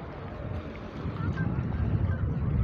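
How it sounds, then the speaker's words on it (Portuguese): Wind buffets the microphone on Antunes beach in Maragogi, Alagoas, a steady low rumble that swells louder toward the end, with faint surf and no clear speech. "Tá ventando um pouco"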